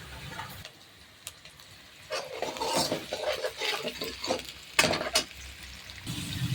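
Tomatoes and ginger-garlic paste fry with onions for pav bhaji while a spoon stirs and scrapes the pan, irregular sizzling with sharp clinks of utensil against metal.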